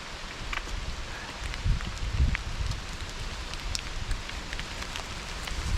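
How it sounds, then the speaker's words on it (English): Steady rain patters in an autumn forest with a faint wash of wind through trees, continuous and fairly soft, with a few louder drips near the start. "the rain's gonna kick in right after I did all this"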